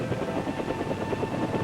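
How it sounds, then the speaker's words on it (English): A light observation helicopter flies over dense jungle, its rotor chop a steady, loud, continuous throb with a constant engine whine, no voices. "To spot enemy concentrations under the umbrella of dense jungle foliage, light observation helicopters were used"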